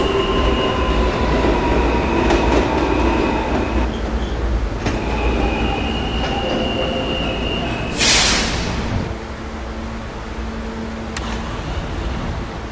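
A video-game subway D train runs with a loud, steady rumble of wheels on track, occasional clicks and squeals, a brief hissing burst partway through, and no talking.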